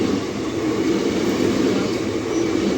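A passenger train on the Secunderabad to Trivandrum Central route rumbles steadily at Trivandrum station as another train arrives, a continuous close, loud rolling roar of wheels and carriages with no talk.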